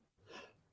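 A single sneeze during a podcast conversation, one soft burst of breathy noise close to the microphone.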